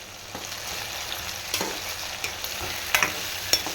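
Onions sauté with rock salt in a pan for fish curry, a soft steady sizzle broken by several scraping stirs of a spoon, close up with no talking.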